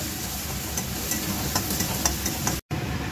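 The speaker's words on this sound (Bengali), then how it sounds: "পেঁয়াজটা লাল লাল করে ভাজা হবে" Onions frying in a pan on a home stove with a chimney exhaust running, a steady broadband sizzle with soft intermittent stirring scrapes, close and continuous, with a brief dropout near the end.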